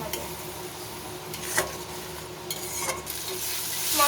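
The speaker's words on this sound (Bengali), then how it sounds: "এবার নুন আর হলুদ দিয়ে এটা ভালোভাবে কষিয়ে নেব" Spice paste for mustard pabda fish is sautéed with salt and turmeric in a pan, producing a soft, continuous sizzle broken by a few sharp scrapes and clicks of stirring.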